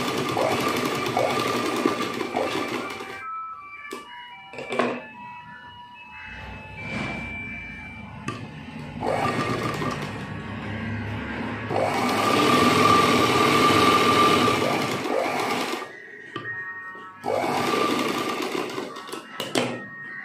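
A sewing machine stitches a handkerchief in bursts, its fast whirring runs stopping and starting repeatedly at close range, with quiet pauses and faint voices between the runs.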